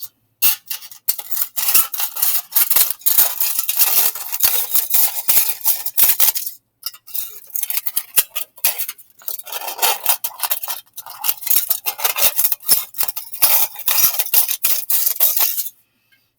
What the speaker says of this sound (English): So you're going to cut 3 strips of foil